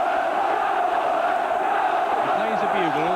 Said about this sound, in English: Can't quite hear him at the moment above the noise of this crowd.